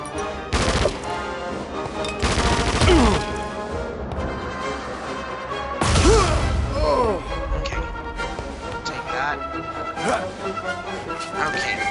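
Gunfire in the Emperor's Tomb video game: a few sharp, loud shots and impacts stand out over a busy layer of game music and effects, with a voice talking at times.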